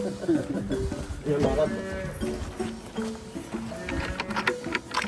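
Several cows moo in overlapping, drawn-out calls, fairly close and loud, filling the whole stretch with low bellowing tones.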